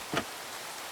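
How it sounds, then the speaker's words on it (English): Rain in a video game falls as a steady, soft wash of hiss, with one brief louder patter near the start, no voices. "Of course it's raining."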